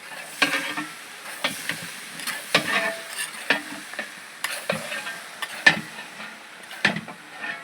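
Vegetable masala poha being stirred in a frying pan with flattened rice, chopped coriander and spices, producing a soft continuous sizzle broken by regular scraping strokes of the spoon, close and steady with no talking.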